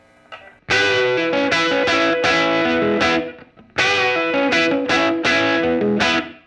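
An electric guitar played through a vintage Supro amp set at half volume gives a squished, overdriven tone: two loud strummed phrases of sustained distorted chords separated by a short pause, close and alone.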